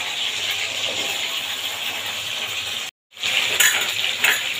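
Cubed taro and potatoes frying in hot oil in a pan, a continuous bright crackling sizzle close by, broken by a brief cut, then resuming louder with some stirring clatter, no talk.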